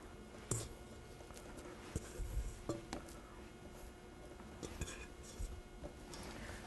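Bread dough for Swedish brown bread being scraped and moved into a butter-greased bowl, soft sticky squishes and a few sharp clicks of a utensil against the bowl, quiet and close with no talking.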